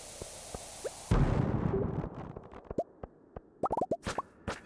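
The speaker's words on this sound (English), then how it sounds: "I need to plant a bomb and just try to blow everything up" A bomb blast in the Stardew Valley mines, a sudden broad burst that rumbles and decays, followed by a scatter of small popping and clicking game effects.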